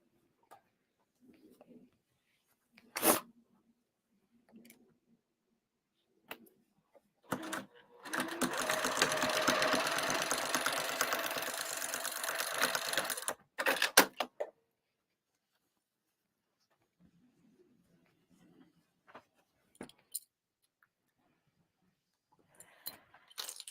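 Sewing machine stitching bag lining fabric for a cross-body bag, one continuous buzzing run of about five seconds in the middle, framed by quiet handling clicks and taps before and after.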